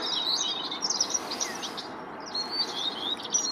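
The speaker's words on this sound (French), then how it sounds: "Petite fauvette à tête noire, mâle." A male Eurasian blackcap calls with high, sharp chirps and tweets in irregular bursts over a steady outdoor background hiss during bird ringing, with no talking.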